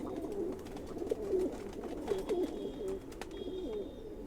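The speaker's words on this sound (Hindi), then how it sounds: "ये सियालकोटी टच और रामपुरी टच से बना हुआ है कबूतर, सियालकोटी और रामपुरी टच से।" A young Khaki Chua pigeon, a Sialkoti and Rampuri cross, sits up in the sun and gives soft, repeated coos at a moderate distance over faint background noise.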